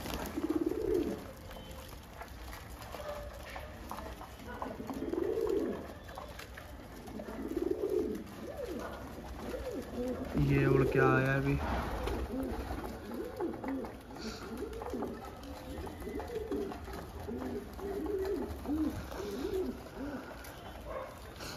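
Pigeons coo in repeated low, throaty phrases close by in a loft, with a brief flutter of wings midway and someone talking briefly over them.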